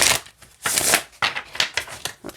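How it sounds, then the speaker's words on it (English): A deck of Nature Quest Oracle cards is shuffled by hand, producing crisp riffling bursts and soft slaps in an irregular rhythm, close and clear with no speech. "I have a problem shuffling it like this"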